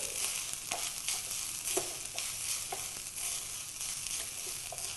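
Grated coconut fries in oil in a pan, a steady close sizzle broken by irregular scraping stirs, with no one talking.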